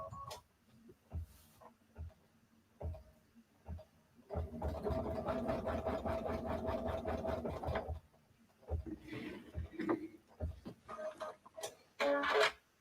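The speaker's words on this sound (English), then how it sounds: "So now I'm going to do the E, the basting line for the E." A computerized embroidery machine runs a basting line for an embroidered letter E, a steady rapid mechanical stitching rattle lasting several seconds, bracketed by quieter gaps and scattered clicks at a moderate distance.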